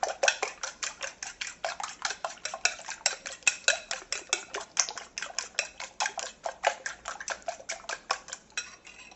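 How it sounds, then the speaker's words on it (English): Three eggs are whisked with a fork in a bowl, a fast, even run of close clicking taps against the dish that keeps going with no pauses and no talking. "then you just whisk it up with a fork, whisk,"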